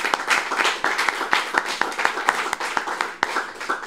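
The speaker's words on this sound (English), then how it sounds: "Can we clap for Jesus?" A church congregation claps during worship, steady overlapping applause with sharp individual claps throughout, fairly loud and close, with no talking over it.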